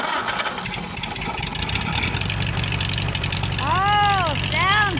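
An old tractor engine cranks and catches, settling into a steady rough idle with a loud continuous rumble; a brief squealing tone rises over it near the end.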